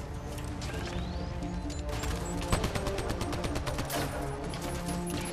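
Rapid bursts of sci-fi weapon fire in Mass Effect: Andromeda, rattling in dense repeated volleys with sharp cracks, fairly faint and continuous across the stretch.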